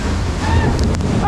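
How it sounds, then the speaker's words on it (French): Strong wind roars against the microphone during an amusement park drop ride, a loud continuous rush with no break. "Par contre il y a vraiment du vent."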